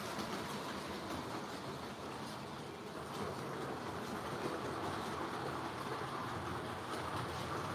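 A model train runs on a track set up around a Christmas tree, giving a steady, faint rolling rumble and clatter that never stops, with no voices over it.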